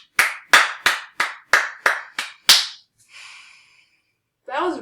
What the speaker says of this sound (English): I'm just gonna clap.